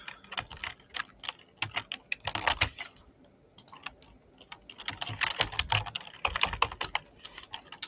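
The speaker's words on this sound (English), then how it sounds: "Let's just type." Typing on a computer keyboard in quick irregular bursts of clacking keys, close and clear, pausing briefly around the middle before a denser run of keystrokes resumes.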